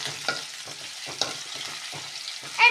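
Lololikka pieces sauté in hot oil for a simple pickle, crackling in a soft, continuous sizzle broken by repeated short scrapes of stirring, close and without talk.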